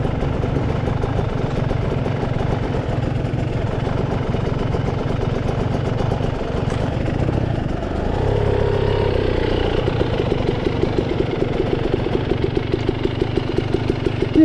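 A dirt bike engine idles on a trail with a low, steady throb and rattling clatter, close and loud throughout, its pitch dipping and settling briefly about halfway through.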